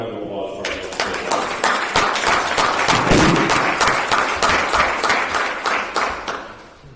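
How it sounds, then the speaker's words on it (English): A round of applause at a city council work session fills the room with a steady dense patter of clapping, building quickly, holding, then fading near the end. "how about a round of applause for our"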